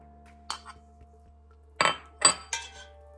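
A utensil clinks against a dish in several sharp, separate bursts as beaten eggs are stirred into warm spaghetti for a spaghetti pie crust, with quiet pauses between strokes.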